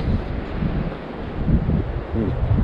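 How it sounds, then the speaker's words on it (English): Strong gusting wind buffets the microphone on a trail up Guadalupe Peak, a dense roaring rush with uneven surges, close and fairly loud throughout, with faint low rumbles underneath. "40 and 50 mile an hour winds, 80 mile an hour gusts."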